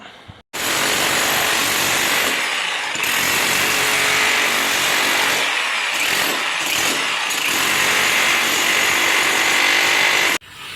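A power drill whines loudly and steadily for about ten seconds, with brief dips in pitch as it bites in, then stops abruptly, drilling near a leaking plumbing pipe.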